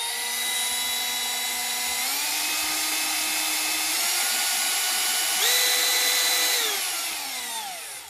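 A Milwaukee M12 brushless cordless drill runs with a high, steady whine that steps up in speed twice, then winds down gradually as the trigger is eased out slowly, close and without talking.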